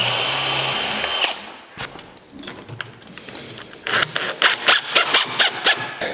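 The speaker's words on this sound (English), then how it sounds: "I'm just going to pre-drill it for the screws and then we'll screw it off." A power drill pre-drilling screw holes for a smart door lock, a loud whirring run at first, then a series of short, evenly spaced bursts close to the microphone.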